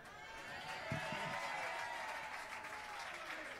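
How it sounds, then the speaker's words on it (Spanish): Audience applause at a live Fito & Fitipaldis tribute concert, a broad wash of clapping and crowd noise heard from a distance, steady and moderately quiet throughout. "Y otro aplauso mucho más grande"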